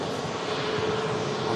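A Boeing 737 MAX airliner on the runway gives off a continuous, even engine roar at moderate distance, with a thin steady whine running through it.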